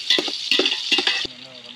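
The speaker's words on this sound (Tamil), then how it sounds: "வெங்காயம் நல்லா பொன்னிறமாக வதங்கி வந்துடுச்சு. இப்போ நம்ம பச்சை மிளகாய் சேர்த்துக்கலாம். நல்லா போட்டு கிண்டுப்பா." Onions and green chillies stirred and fried for village-style chicken biryani, several rhythmic scraping strokes over a crackling sizzle, close and fairly loud, ending with a metallic clink.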